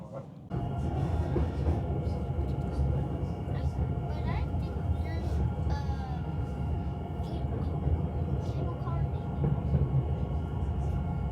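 Mont Blanc Express panoramic train running through the French Alps: a loud, steady rumble and rattle of the carriage fills the whole stretch, with faint squeals and creaks riding on top of it.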